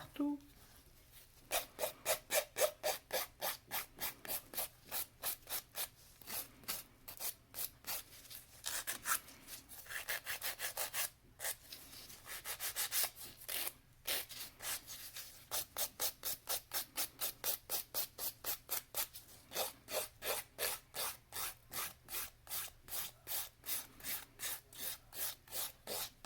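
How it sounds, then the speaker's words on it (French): A nail file rasps across a fingernail in long runs of quick, even back-and-forth strokes, close and crisp, pausing briefly between runs, with soft background hum. "Et je vais passer une petite lime partout."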